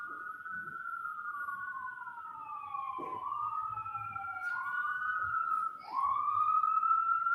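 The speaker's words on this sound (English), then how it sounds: "wait until the sirens pass" A wailing police siren sweeps up and down continuously, loud and steady as it passes near a courtroom during a trial, with no talking.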